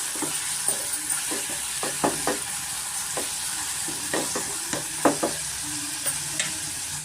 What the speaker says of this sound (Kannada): ಟೊಮೆಟೊ ಸ್ವಲ್ಪ ಫ್ರೈ ಆಗಬೇಕು ಮತ್ತು ಸಾಫ್ಟ್ ಆಗಬೇಕು.